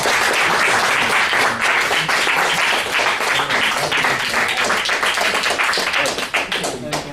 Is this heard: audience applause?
yes